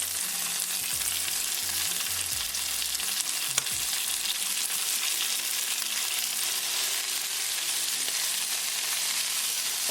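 Fresh uncooked shrimp fry in a pan with a dense, continuous close sizzle and occasional stirring scrapes, steady in loudness from start to finish.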